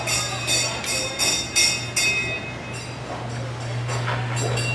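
A small kids' amusement park ride train at Beech Bend Park rolls past with rhythmic rattling bursts and a steady low hum, wheels clicking along at moderate distance.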